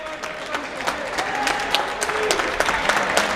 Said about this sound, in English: Big round of applause from the crowd.